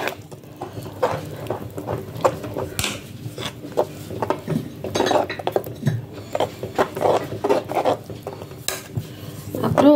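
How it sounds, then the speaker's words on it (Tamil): A spoon scrapes and clinks against a pot while black urad dal kanji mixture is stirred, in an irregular stream of close, moderately loud strokes with faint background noise. "அதையும் போட்டு கொஞ்சம் நல்லா கலக்கிக்கலாம்"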